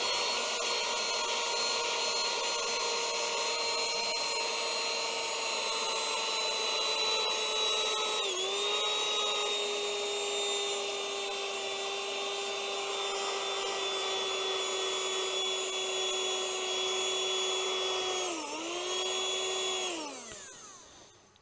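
A Temu mini USB vacuum runs alone with a steady, high-pitched motor whine, sucking up flour on a workbench, with a slight pitch dip midway before it winds down and switches off at the end.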